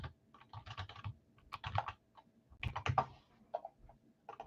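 Fast typing on a computer keyboard during a live sports card break stream: uneven bursts of quick clicks across the whole clip, close and fairly quiet, with no talking over them.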